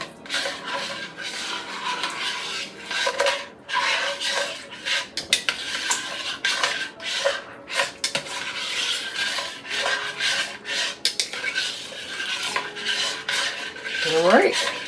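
A utensil scraping the bottom of a pot of oven slow-cooked beef stew, with repeated rough rasping strokes and metallic scuffs at an uneven rhythm, loud and close with no talk.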